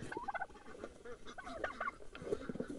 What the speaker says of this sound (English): There's a turkey.